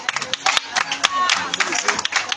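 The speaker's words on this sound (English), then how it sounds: "A round of applause for the graduates" Applause for graduates at an induction and oath-taking ceremony of a college of health science, brief uneven clapping from a nearby crowd mixed with voices.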